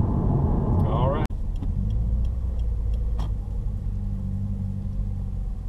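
A 2015 Subaru WRX cruises through the city in fifth gear, with low steady engine rumble and road noise heard from inside the cabin throughout and someone talking over it.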